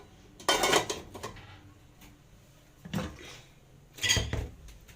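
A metal cooking pot of rice is lifted and set down on a small burner with a few clanking knocks, three distinct clattering bursts in a quiet kitchen with no talking.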